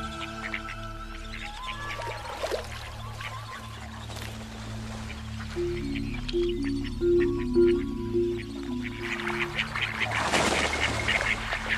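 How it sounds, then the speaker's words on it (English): Ducks quack and squawk repeatedly in a noisy flock, steady and moderately close, with a rising burst of commotion toward the end. "showing only half-hearted interest in the squawking fowl"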